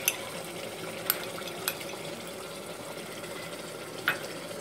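Ginger and garlic paste frying with mutton in oil in a pot for kadhai gosht: a quiet, steady sizzle with a few sharp metallic clinks of a spoon against the pot.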